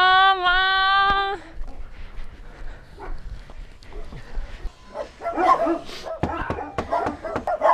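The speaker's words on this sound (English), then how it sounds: "As you see, guys, there are a lot of dogs." Several dogs bark and yip in a street in Colombia, opening with a sustained whining howl and then a run of sharp, irregular barks rising in loudness, with people talking nearby.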